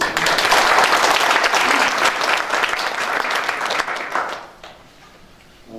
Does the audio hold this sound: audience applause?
yes